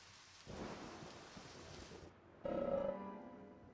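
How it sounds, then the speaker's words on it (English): Rain falls in the video game Deadly Premonition as a steady hiss of rainfall, interrupted by a brief drop and a sudden louder burst with a ringing tone, fairly faint overall. "Also, it's raining now."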